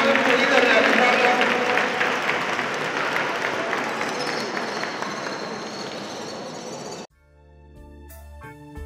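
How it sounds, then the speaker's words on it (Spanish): Spectators at an outdoor falconry exhibition in Vinuesa give a strong round of applause. Loud, dense clapping fills about seven seconds before it cuts off abruptly, and faint music follows. "Un fuerte aplauso para ellos"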